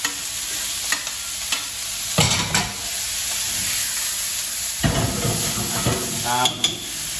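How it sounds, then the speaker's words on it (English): Minced pork stir-frying with soy sauce and garlic in a hot pan for keto cauliflower fried rice, loud continuous sizzle and hiss broken by several tossing scrapes and clatters, close up. "I will just start to toss all the ingredients together"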